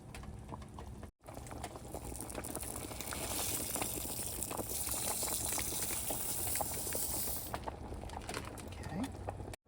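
Dry parboiled rice poured into a pot of boiling chicken soup, a steady pattering rush over bubbling liquid lasting several seconds, close and moderately loud, with brief breaks at start and end.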